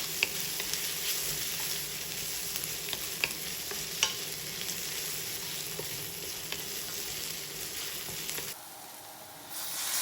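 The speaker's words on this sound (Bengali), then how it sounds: "প্রথমে এটা দিয়ে আরও কিছুক্ষণ নাড়বো দুই তিন মিনিট মতো নাড়বো" Cinnamon, cardamom and ground black pepper frying in a pan, making a steady bright sizzle with scattered stirring clicks for about eight seconds before the sound drops suddenly to a faint hiss.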